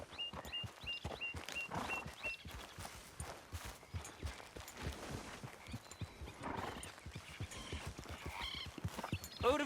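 A horse's hooves clip-clop at a walk along a beach route in Red Dead Redemption 2, with a steady string of soft hoof thuds and occasional higher tones over a quiet background.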